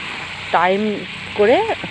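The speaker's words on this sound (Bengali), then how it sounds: "পেঁয়াজ বেরেস্তাটা দিয়েও আমি কিছুক্ষণ কষে নেব।" Fried onions (beresta) are sautéed in a pan with a steady soft sizzle running throughout, while someone speaks over it in two short bursts.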